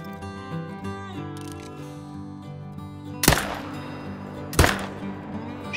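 Two sharp, loud hunting-rifle shots in theHunter: Call of the Wild, about a second apart, each cracking out over sustained musical tones and leaving a short decaying tail.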